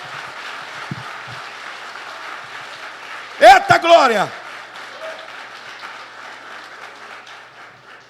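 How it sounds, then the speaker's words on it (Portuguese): A church congregation applauds during a sermon, a steady wash of clapping underneath as a man lets out a loud, brief shouted exclamation midway, then voices continue over the clapping. "Aplauda ele."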